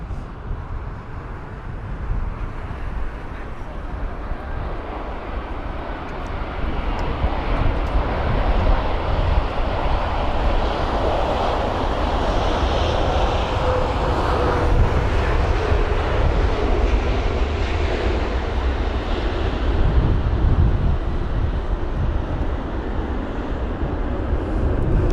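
A jet airliner landing at London Heathrow in gusty wind, its engine roar a steady, broad rumble that swells slightly midway and holds loud throughout, with no voices.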